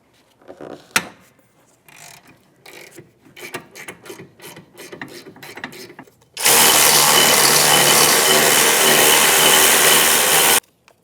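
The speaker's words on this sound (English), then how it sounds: "Now we're going to remove our 2 caliper mounting bracket bolts. That's a 19mm socket." A ratchet and 19mm socket work the brake caliper mounting bracket bolts on a 2012-2018 Nissan Altima rear brake job: a loud close mechanical clicking ratchet, then a sustained harsh whirring burst of several seconds.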